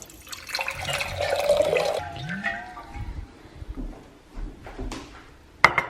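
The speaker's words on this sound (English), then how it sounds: "And then I will pour some water for myself." Water pours in a splashy gush for about two seconds, followed by quieter trickles, clinks and small handling sounds.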